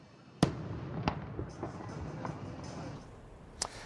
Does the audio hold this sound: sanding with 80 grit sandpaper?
no